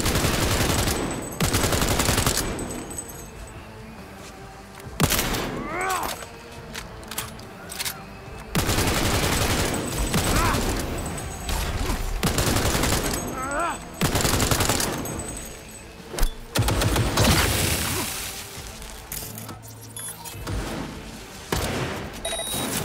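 Gunfire in the Cyberpunk 2077 video game, loud rapid bursts of automatic shots repeating through the whole stretch, broken by short pauses and heavy thuds.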